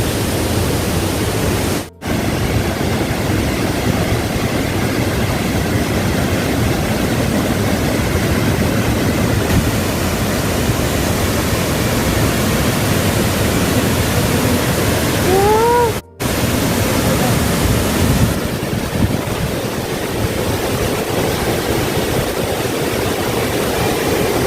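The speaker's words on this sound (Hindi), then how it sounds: "बहुत ही अच्छा लग रहा है, बहुत हैवी फॉल है यहाँ पे" Heavy water pouring down Umkrem Falls near Dawki, Meghalaya, a loud, steady roar of falling water close by that fills the whole stretch, broken by two brief dropouts.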